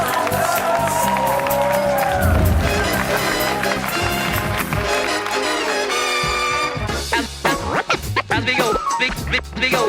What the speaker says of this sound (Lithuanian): Galime išlydėti garsiausiais aplodismentais.